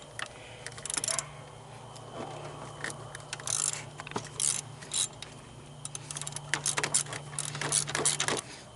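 A ratchet loosening a 15mm alternator bolt on a Chevy Impala with a 3.6L V6, irregular bursts of clicking and metallic mechanical clatter at close range, with no talking.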